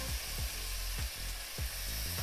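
Chinese chicken curry base sizzles steadily in a hot pan while a utensil stirs it, scraping in a quick regular rhythm of about eight strokes, close and alone.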